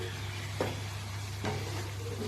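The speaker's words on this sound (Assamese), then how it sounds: "এইখিনি ভাজি থাকিম যেতিয়ালৈকে ইয়াৰ মাংসৰ পৰা ওলোৱা পানীটো শেষ নহয়" Chicken meat frying in a pan with ginger, green chili and cumin gives a soft, steady sizzle, with two brief stirring scrapes and no talk.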